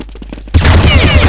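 Loud, dense burst of gunfire in a PvP shooter game, rapid overlapping shots landing a triple headshot, starting abruptly after a brief quieter stretch of scattered muffled pops.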